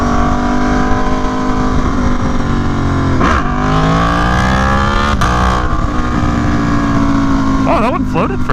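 An Aprilia Tuono V4 motorcycle engine revs hard and loud as the rider accelerates after the front wheel lifts, rising and shifting pitch continuously with a voice talking briefly over it.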